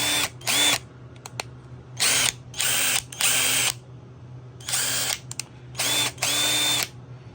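A repaired Ryobi impact driver, run in a workshop, fires off about eight short, loud bursts of whirring and whining, each roughly half a second, separated by brief pauses, with no talk.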